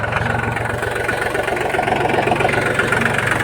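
A mini tractor engine runs out in the field with a steady, throbbing diesel chug, close and continuous with a slight knocking rhythm and no talk.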